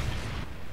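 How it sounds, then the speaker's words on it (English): A Trinity rocket strike in Call of Duty: Ghosts multiplayer rumbles as a loud, low explosive roar that fills the whole brief moment without a distinct onset. "Friendly Trinity rocket inbound."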